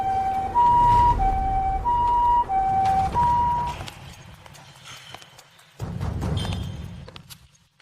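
A two-tone ambulance siren alternates loudly and rhythmically over a low rumble, then fades away before the wail briefly returns.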